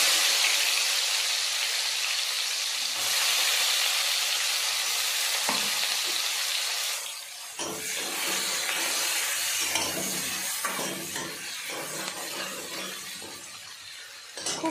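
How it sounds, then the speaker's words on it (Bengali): Chopped onions sizzling in hot mustard oil, a loud continuous frying hiss with stirring scrapes and clinks partway through, close and without talk. "সরিষার তেলটা খুব ভালো করে গরম করে দিয়ে দিলাম পেঁয়াজ কুচি।"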